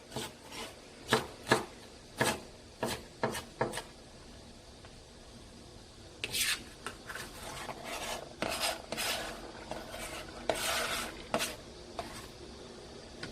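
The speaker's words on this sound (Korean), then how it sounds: "흰 대부분 절반은 이렇게 송송송 썰어서 준비를 하고요" Kitchen knife finely slicing green onion whites on a cutting board, a quick series of crisp, close chops in bursts, with a steady run of rapid cuts and light scraping afterward.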